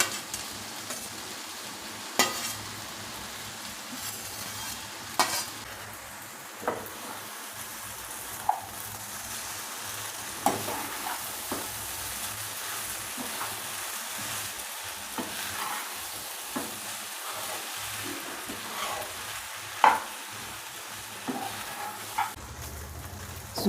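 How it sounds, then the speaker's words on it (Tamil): Wheat egg noodles tossed with vegetables and egg in a hot pan, a low continuous sizzle under regular sharp scrapes and taps of the spatula, spaced every second or two over a long stretch, close by with no voices. "இப்போ நம்ம வந்து இதில் இந்த நூடுல்ஸை சேர்த்துக்க வேண்டியதுதான்"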